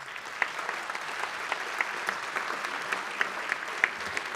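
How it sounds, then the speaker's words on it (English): An auditorium audience at a school district recognition evening claps steadily, a dense, even patter of many hands with a few sharper individual claps standing out. "Can we just get a brief round of applause for them?"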